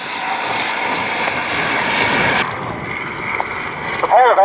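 Royal Aircraft Factory SE5A scale replica biplanes passing overhead at an airshow, a steady engine drone that fades after a few seconds, fairly loud and distant, with wind noise and a brief rustle near the end.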